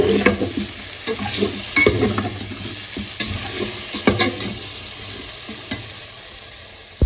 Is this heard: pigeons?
no